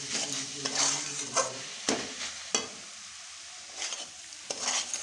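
Date-palm jaggery filling, sticky after about ten minutes of cooking, being stirred in a pan: steady scraping and clinking strokes with a soft sizzle underneath, close and moderately loud, no voices.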